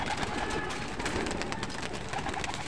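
Pigeons kept in a loft coo softly in several short, low murmurs under a steady, fairly loud background hiss. The cooing is scattered and sits close by.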